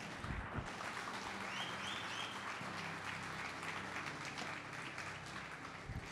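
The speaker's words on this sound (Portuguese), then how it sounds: "Você pode aplaudir Jesus, cara?" Church congregation applauding: sustained dense clapping from a large crowd indoors, steady and moderately distant throughout.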